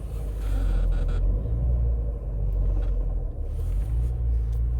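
An old Mini Convertible's engine rumbles steadily while driving, with low grinding and droning from a faulty gearbox, loud and close, no voices.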